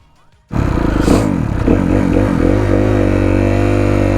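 Motorbike ride on the way to Rivington Pike: an engine kicks in abruptly after brief quiet, then a loud, steady close-up drone with slight pitch wobbles as the bike is ridden, no voices.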